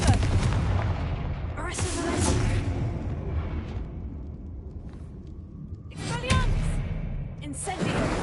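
Confringo blasting spell in Hogwarts Legacy, several deep booming explosions with rumbling tails spaced a few seconds apart, loud against a low background, with a voice speaking in between.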